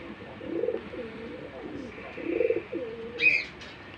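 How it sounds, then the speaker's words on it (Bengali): Rajshahi Girebaz pigeons coo softly and repeatedly at a pigeon farm, low rolling calls close by, with a brief higher chirp near the end. "এটাও কিন্তু রাজশাহী গিরুবাজ কবুতর দুটা ডিম শোয়া আছে"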